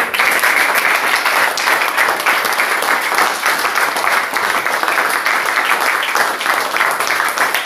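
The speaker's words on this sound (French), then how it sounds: "Applaudissons pour le Seigneur." A church congregation at a Cameroonian worship service claps and applauds continuously, a dense loud wash of hands from a large crowd with no break.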